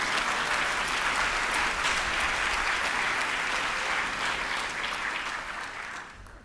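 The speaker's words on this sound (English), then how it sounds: "Thank you for the applause." Sustained audience applause at the opening ceremony of the EGPA 2025 conference, a full, even roar of many hands clapping that holds steady and then tapers off over the last second.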